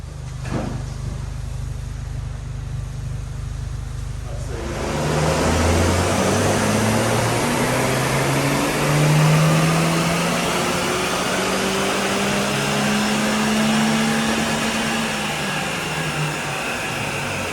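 A tuned Mitsubishi Colt Ralliart with catback exhaust and turbo valve on a dyno power run: a loud, sustained engine roar that climbs steadily in pitch through the revs for over ten seconds after a brief quieter start.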